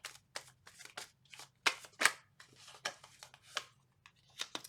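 Tarot cards shuffled by hand in a series of quick, crisp riffles and slaps, close and fairly quiet, with short pauses between bursts and no talking.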